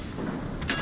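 A battleship main gun salvo from the Monarch in World of Warships lands as a short, loud boom toward the end of a low rumbling game background.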